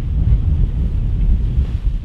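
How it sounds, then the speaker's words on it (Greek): Strong force 8 wind at sea during a tugboat tow off Crete: a heavy, continuous low rumble of wind buffeting the microphone, loud and close, with no speech. "Η ένταση του ανέμου φτάνει τα 8 μποφόρ, ενώ στις δυτικές περιοχές ακόμη και τα 9."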